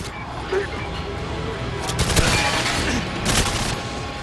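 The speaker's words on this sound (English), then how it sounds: "I think that guy just threw a grenade at me" Video game combat with a grenade going off amid a crackle of gunfire, loud bursts of shots and a blast rolling through a steady noisy backdrop, busiest in the middle stretch.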